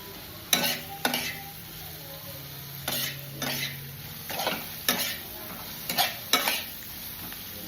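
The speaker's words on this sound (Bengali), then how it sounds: "এই তেলটাতে 2টো গরম মশলা, গোটা গরম মশলা ফোড়ন দিয়ে এতে ওই কুচিয়ে রাখা পেঁয়াজটা দিয়ে লাল লাল করে ভেজে নেব" Chopped onions frying in oil with whole garam masala for a cauliflower dish, a low steady sizzle broken by repeated sharp scrapes of a spoon stirring against the pan, close and without talk.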